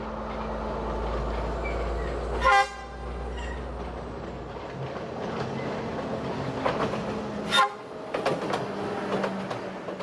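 A broad gauge train running on a Sri Lankan railway far from Colombo gives two loud, short horn toots several seconds apart over a steady rumble and faint clatter of the moving carriages.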